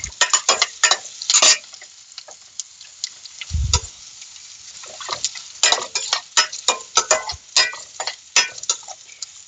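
Asparagus roasting in a pan, heard as bursts of crackle and rattle from stirring and pieces shifting against the metal, intermittent and fairly close, with one low thump partway through.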